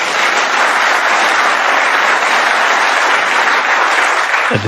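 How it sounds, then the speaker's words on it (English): Loud, steady audience applause fills a snooker arena during a Ronnie O'Sullivan versus Robert Milkins match, a thick continuous wash of clapping with no talk over it until a voice cuts in at the very end. "A deserved round of applause"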